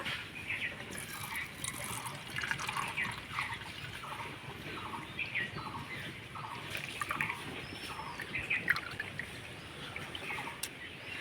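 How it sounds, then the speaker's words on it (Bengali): A milk and yogurt mixture for sweet yogurt made from powdered milk is poured into a bowl. It makes a faint, continuous trickling that runs throughout at low volume. "এবার আমি বাটিটার মধ্যে ঢেলে নেব মিশ্রণটা"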